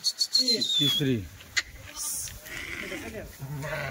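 Kathewadi sheep bleat close by at a livestock sale, several quavering calls overlapping with someone talking throughout and a faint high whistle early on.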